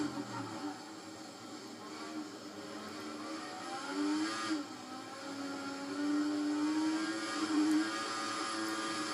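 An F1 car engine in the F1 2014 racing game on the Brazil track, a steady mid-level drone whose pitch rises and falls with throttle changes through corners, with no talk over it.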